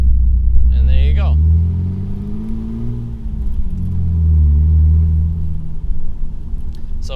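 Jeep Wrangler TJ with a manual transmission pulling away from a stop, its engine rumbling low and rising gently in pitch as it gains speed, with a person talking briefly over it.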